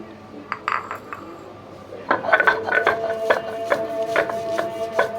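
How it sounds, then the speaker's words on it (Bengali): Spice paste ground by hand on a stone pata slab in a home kitchen, the stone rubbing and knocking in a steady scraping rhythm of short gritty strokes, louder after a quieter start, close by. "এই যে এখন পাটায় বেটে নিব।"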